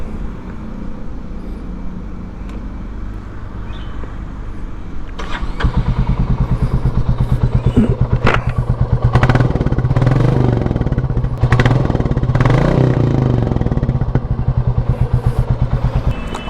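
Royal Enfield Classic 350 motorcycle (2022 model) engine running close by, a steady low thumping idle that grows louder with blips of throttle partway through, with no talk.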